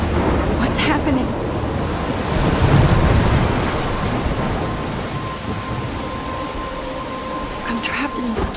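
Steady heavy rain with rolling thunder from the video game Life is Strange, a dense wash of downpour that swells with a low rumble early on and then holds as continuous storm noise without talk.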